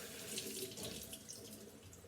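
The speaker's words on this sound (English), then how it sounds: "Just rinse that under water." Tap water runs steadily over lobster meat being rinsed under a kitchen faucet, a close, continuous splashing stream with no talk.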